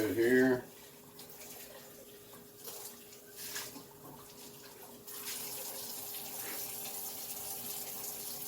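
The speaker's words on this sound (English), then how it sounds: "rinse my juice cup out just a little bit here." Hot tap water runs into a sink to rinse out the juice cup of an Oster juicer, a steady splashing rush after a brief burst of voice at the start, growing slightly fuller near the end.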